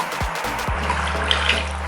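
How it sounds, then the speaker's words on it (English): Half a cup of water pours into a pot of Filipino chicken adobo, a short steady splash and gurgle close by with a couple of low thuds near the start. "I'll just put half a cup of water."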